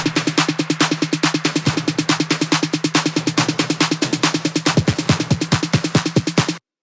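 Layered drum loops from a sample pack play in a tight, fast repeating pattern of punchy hits for nearly seven seconds, loud and upfront, then cut off abruptly, no voices.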